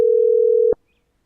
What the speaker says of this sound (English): I hear a ringing